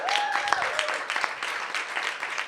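Audience applause at a YIMBY party event, a dense patter of clapping from a crowd at moderate distance, steady and fairly quiet throughout.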